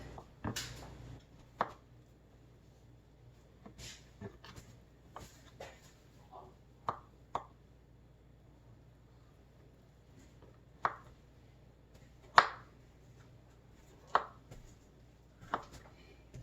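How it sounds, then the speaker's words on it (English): A knife slicing food on a cutting board, sparse sharp taps spaced a second or more apart, close and clear over a quiet kitchen background. "And we're just going to slice it."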